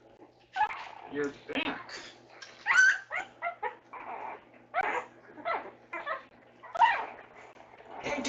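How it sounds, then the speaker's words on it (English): Two beagles whimper, yip and whine excitedly in repeated short bursts nearby, while a person speaks to them between the cries. "Hey, two beagles. How are you?"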